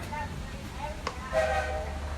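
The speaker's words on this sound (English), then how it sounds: "those two whistles up ahead mean that we are now clear for departure" Steam train whistle on the Magic Kingdom railroad sounds up ahead as the train is cleared for departure, short and faint at a distance, under a low idle rumble and murmuring voices.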